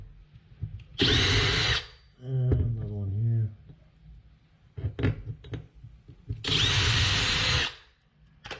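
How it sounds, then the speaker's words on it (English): A power drill drilling a pilot hole in wood whirs in two loud bursts of about a second each, with a brief spoken remark and light knocks between them. "And drill a pilot hole."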